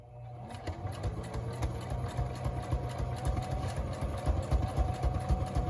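A sewing machine runs steadily, stitching through paper and lace in a mixed-media snippet roll, its quick mechanical chatter close and continuous with a low motor hum beneath.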